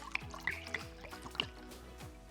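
Pinot Grigio white wine is poured into a pan of risotto rice, giving a run of small wet drips and splashes over a steady low kitchen hum, with no talking.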